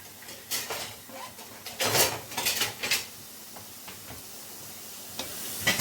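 Tomatoes are added to a hot pan for tomato soup, bringing bursts of sizzling and clattering pan sounds with a few sharp scrapes, loudest around the middle and then settling into a quieter sizzle.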